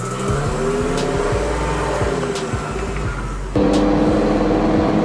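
A twin-turbo Lamborghini Performante is driven hard, its engine note climbing sharply through repeated gear changes. The loud, close exhaust surges again after a clear shift midway, with no talking.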